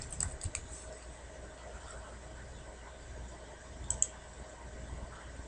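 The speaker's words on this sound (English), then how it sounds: "We can just type in Rated Wall" Keyboard keys tapped in short, quiet bursts at a computer workstation while a filter name is entered, with faint clicks near the start and again toward the end over a low room hum.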